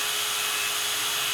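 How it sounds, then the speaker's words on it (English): A tiny drill bit bores into a deer hoof, giving a steady, high, whining grind that stays close and unbroken for about a second, with no voices. "So I like to drill with a pretty tiny drill bit."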